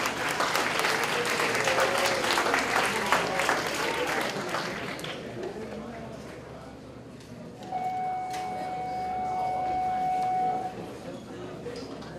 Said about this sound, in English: Another round of applause for Christine Jones.